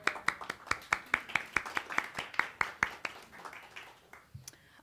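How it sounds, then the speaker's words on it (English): A small audience claps in a steady round of applause, with distinct, evenly spaced hand claps close by. The clapping thins out and fades toward the end. "Let's give them a round of applause."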